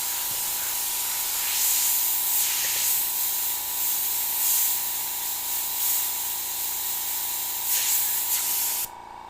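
An airbrush sprays paint in a steady, soft hiss that swells and eases in repeated passes, close by, during a mammoth airbrushing tutorial, then cuts off abruptly near the end.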